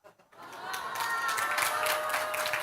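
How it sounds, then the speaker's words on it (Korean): A church congregation breaks into applause during a Korean sermon, the clapping swelling in after a brief quiet start and holding steady, fairly close and full, with no voices over it. "이게 박수 칠 일인가요?"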